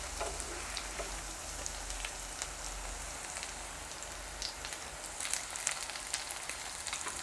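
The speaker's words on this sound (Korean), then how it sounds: "약간 이렇게 노릇노릇 될 정도로 부쳐주세요" Chopped chili pancakes pan-fry until golden, giving a steady close sizzle with crackling pops and spits of oil, and no talking.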